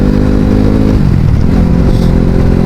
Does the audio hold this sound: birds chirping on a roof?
no